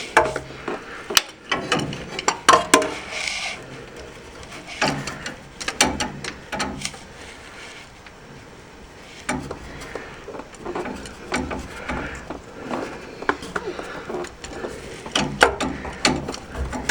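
A socket ratchet turns a bolt on a Continental Mark III transmission, giving bursts of rapid metallic clicking separated by short pauses and occasional knocks.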